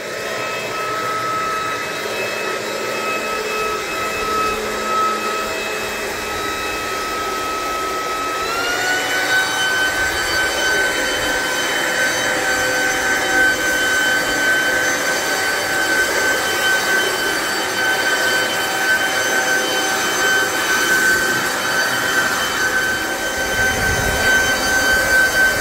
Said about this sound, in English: get this plugged in and see how the leaf blower works